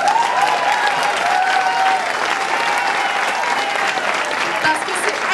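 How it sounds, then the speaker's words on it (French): A crowd gives sustained applause for the organizers of a French-language rally and performance, steady clapping throughout with a few whistles and cheers riding on top. "j'aimerais ça qu'on donne une bonne main d'applaudissements à tous les organisateurs de l'événement"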